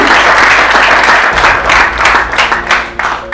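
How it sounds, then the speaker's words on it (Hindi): An audience at an Osmose Technology company presentation bursts into loud, dense applause that holds steady, then thins into scattered claps toward the end. "तो उसके लिए एक बार जोरदार तालियां अपने आप के"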